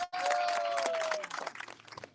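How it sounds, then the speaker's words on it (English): Applause for a city councilwoman at an outdoor street-naming event, a short burst of clapping with a sustained tone over it early, thinning into scattered claps toward the end. "Let's give her a round of applause."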